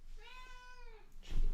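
A pet cat gives a single clear, drawn-out meow nearby, followed by a soft rustle, with no voices.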